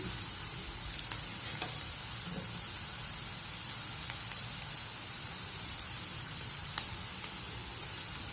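Chopped onion and minced garlic sizzling in a pan, a dense steady crackling hiss with faint occasional pops and stirring scrapes, close up with no talk.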